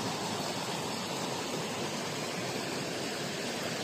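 A waterfall pours into a natural rock-walled pool, giving a steady, dense rushing roar that stays constant and close throughout, with no voices.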